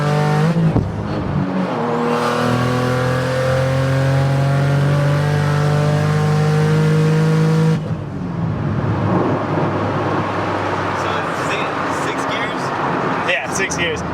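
A turbocharged Nissan 370Z engine revs loudly through the gears, its pitch climbing steadily before a shift around the eighth second, then roaring on under continuous engine noise with people talking throughout.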